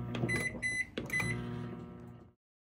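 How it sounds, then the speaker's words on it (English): A microwave oven heating a keto chocolate chip cookie in a mug sounds a few distinct beeps and tones, then a humming run that cuts off into silence. "We're going to place the cup in our microwave. We're going to start with 30-second intervals."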